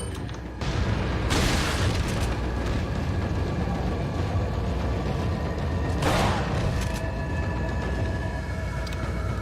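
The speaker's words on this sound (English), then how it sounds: "Time for an incendiary. Shit, didn't mean to throw two." Two incendiary grenades bursting in Resident Evil 4, two separate rushing booms a few seconds apart over a continuous loud rumbling, roaring fire backdrop.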